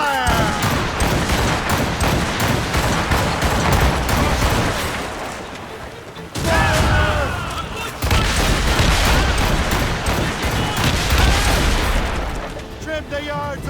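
Ship cannons fire broadsides in Assassin's Creed Rogue, a dense, loud barrage of booms and blasts that rolls on almost without pause, with shouted crew voices mixed into the battle.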